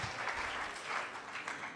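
Church audience at a BCC Canada graduation applauding for a woman asked to stand, a dense wash of many hands clapping at once, steady and moderately distant, with no talk over it.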